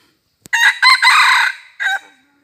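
Rooster crowing up close: a sharp click, then a loud, drawn-out cock-a-doodle-doo ending in a short final note, followed by faint low clucking.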